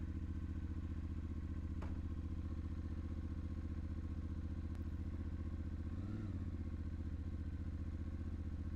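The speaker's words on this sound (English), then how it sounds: "Wow, it sounds just like a Tenere 700." A new 2025 Ibex 450 motorcycle engine idles steadily at close range, a constant low rumble with a couple of faint clicks and a brief rise in revs near the end; no one talks.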